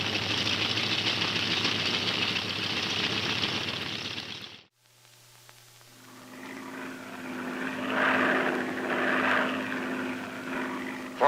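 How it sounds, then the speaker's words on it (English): A vintage propeller air tanker aircraft heading out to attack a forest fire, a loud, close engine roar that cuts off sharply, then a lower, more distant propeller drone builds again and swells. "Within minutes, the air tanker is on its way."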